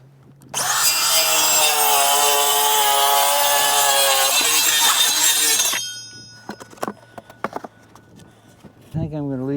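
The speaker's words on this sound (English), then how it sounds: "I'll sit my board on top of it, trim my board down." A power saw rips loudly through a wooden board being trimmed to size in a coach shop, a steady close whine for about five seconds that then winds down, followed by clattering handling noises.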